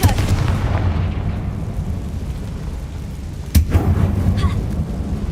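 A Confringo blasting spell explodes in a Harry Potter video game: a heavy, rumbling boom with a sharp crack partway through, then continuing low roar.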